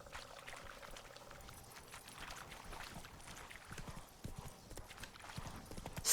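Horse hooves clip-clop in the Witcher 3 video game as Roach moves along, a faint, irregular stream of hoofbeats over quiet ambience.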